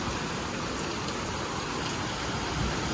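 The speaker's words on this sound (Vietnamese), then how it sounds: "Sài Gòn mưa quá" Heavy rain pours down in Saigon, a dense, steady hiss of water hitting surfaces that stays constant throughout, with no voices.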